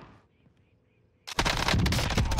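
A sniper rifle shot in Call of Duty Warzone cracks out loud and sudden after a near-silent stretch, followed by a sustained burst of dense gunfire noise.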